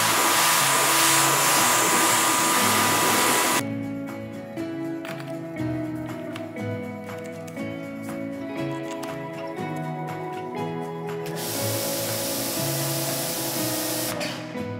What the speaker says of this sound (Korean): 케미컬 양을 레버로 돌려 맥스로 뿌려봤습니다